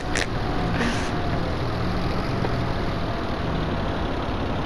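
A newly acquired tractor engine idles steadily in a roleplay game, a constant low rumble with a couple of faint clicks near the start; no talking.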